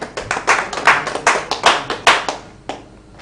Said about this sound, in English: Please, a round of applause for her once again.